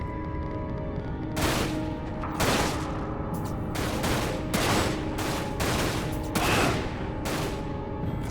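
Enemy gunfire in the shooter game Dirge of Cerberus: Final Fantasy VII rings out in loud, sharp bursts at regular intervals over a constant rumbling background, each volley cracking and then dying away.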